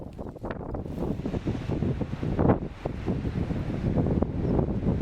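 Strong desert wind from a sandstorm-like whirlwind in the Thar Desert, roaring and buffeting across the microphone in uneven gusts and rumbles throughout, close and loud.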